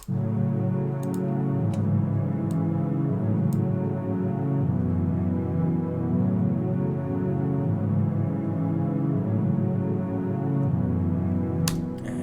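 A sustained synth pad chord holds steadily throughout, warm and dense with soft, lush harmonics, with a few faint clicks scattered on top.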